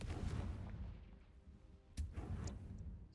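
Spell explosions from a Hogwarts video game, Bombarda and Confringo, heard as muffled booming blasts over a rumbling background, with a sharp burst near the middle.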